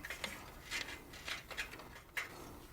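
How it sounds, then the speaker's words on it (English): A wrench works a fitting loose on a motorcycle during an exhaust sensor install, giving a few short metallic clicks and scrapes spaced irregularly, close up and fairly quiet, with no voices. "we're going to slip the wrench on there. Break this loose."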